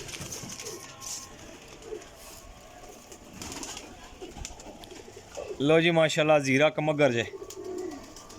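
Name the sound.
pigeons cooing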